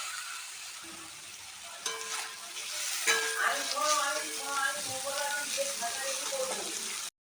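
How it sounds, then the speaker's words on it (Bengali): Carrots and long beans stir-fry in a wok with a steady, close sizzle and occasional scraping stirs, while a faint voice and tonal sounds run underneath. "দিয়ে একসাথে নেড়ে চেড়ে ভেজে নেব"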